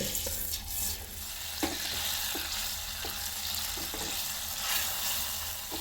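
Fish frying in melted butter in a pan for butter garlic fish, a steady close sizzle with occasional clicks and scrapes from stirring and handling, and no talk.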